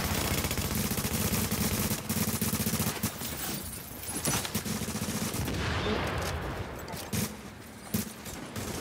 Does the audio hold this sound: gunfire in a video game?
yes